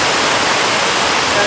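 Strong wind roars outdoors during a stormy day with rain, a loud, broad, steady rushing that fills the whole moment.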